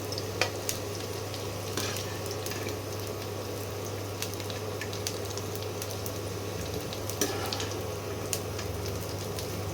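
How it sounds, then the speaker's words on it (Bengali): Potatoes fry in hot oil with a steady, dense sizzle and occasional clicks of stirring, close and continuous throughout with no voices. "আলুগুলো লাল লাল করে ভাজা হয়ে গেছে"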